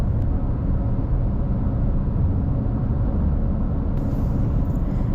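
A car engine drones steadily from inside the vehicle while driving over a steep cable-stayed bridge across the Cooper River in Charleston, a constant low rumble with road noise and no speech.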